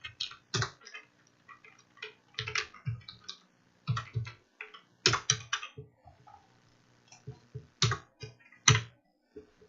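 Keys clatter on a computer keyboard during Java programming, the typing coming in close, irregular bursts of clicks separated by short pauses, with no talking.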